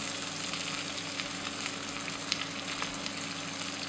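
Flour-coated carp fillets fry in fat in a pan over medium heat, giving a steady, close, crackling sizzle with no talking.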